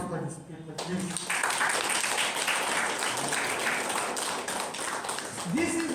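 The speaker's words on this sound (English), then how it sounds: "So round applause for this paper, please." Seminar audience at a homeopathy event clapping for a presented paper, a dense steady roar of hands that swells in after a brief pause and continues evenly, with a voice briefly heard over it.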